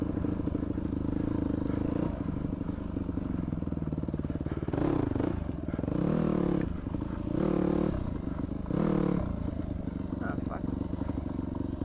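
A dirt bike ridden along rough trails, its engine droning steadily throughout with several louder revving surges, accompanied by clattering and scraping as the bike rolls over the terrain.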